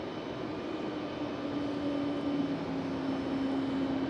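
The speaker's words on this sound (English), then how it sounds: "I hear an A220." An Airbus A220 airliner engine at Raleigh-Durham airport at night, a faint distant hum with a steady tonal whine rising gently over the background.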